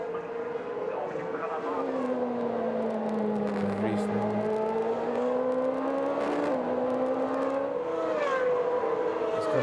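Race cars, including a black Lotus, lapping the Nürburgring: a sustained engine whine rising and falling in pitch through gear changes, heard at a distance under continuous commentary.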